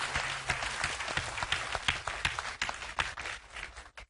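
Studio audience applauding on an Azerbaijani school quiz show, a dense steady patter of many hands that holds for about four seconds before tapering off sharply at the end.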